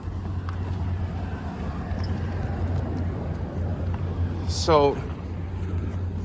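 A 10th-gen Honda Civic engine idles with a steady, low, even hum underneath a man's speech, holding constant throughout.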